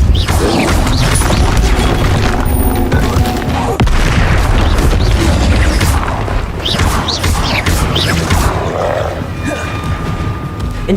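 Repeated Depulsor spell impacts in the Hogwarts Legacy video game, loud booming blasts and crashes in rapid succession over dense combat noise, with a voice calling out at times.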